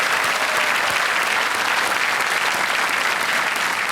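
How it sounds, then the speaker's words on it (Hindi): A studio audience on a Kaun Banega Crorepati game show set claps in a dense, steady burst of applause, loud and continuous with no pause. "तालियों के साथ एक बार फिर इनका स्वागत।"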